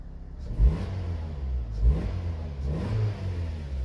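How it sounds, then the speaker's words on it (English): A Vauxhall Zafira B 1.8 engine revs three times as the accelerator pedal is pressed, each short rise in pitch dropping back to idle, close and clear with no talk. "So if I just press the accelerator pedal, I'm just going to see if it revs."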